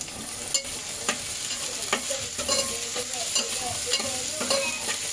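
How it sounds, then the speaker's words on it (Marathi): Chopped onion frying with garam masala, curry leaves and green chilli in a pan for a chicken curry, a steady close sizzle with repeated scraping stirs of a spoon against the pan, no voices. "कांदा आपण चांगला असा लाल परतून करून घेऊ"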